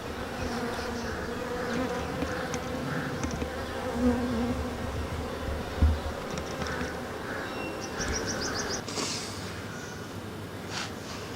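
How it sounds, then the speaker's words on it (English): Dense, steady buzzing of many honeybees on a hive frame during a beehive inspection, a continuous close drone with occasional louder passes. "So these are bees filling in honey into the cells."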